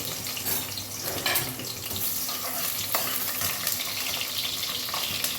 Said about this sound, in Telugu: ఆయిల్ వేడి వచ్చింది, ఒక్కొక్కటిగా వేసుకొని లైట్గా వేయించుకోవాలి